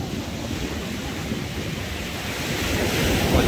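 Ocean waves surge at high tide on a beach in Recife, a continuous loud wash of surf with wind buffeting the microphone, swelling slightly louder toward the end.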